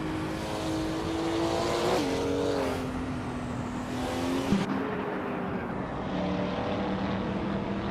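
GTE and GTS race cars roar around Lime Rock Park in a racing video game, with loud overlapping engine drones shifting pitch as several cars pass close together, a sharp transition midway, and no talk.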